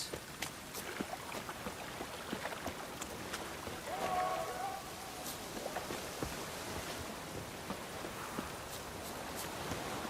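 Heavy rain falling in The Witcher 3, a quiet, constant wash of patter with occasional sharper drops and a faint voice briefly in the middle.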